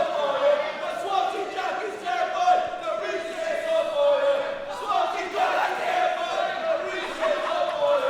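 A large wrestling crowd at a live show roars and yells continuously, a loud, swelling mass of voices with rising and falling surges.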